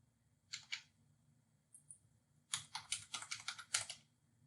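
Keys tapped on a computer keyboard while a new password is entered, with a short burst of clicks, a pause, then a quicker run of about ten crisp keystrokes, close and quiet with no talking.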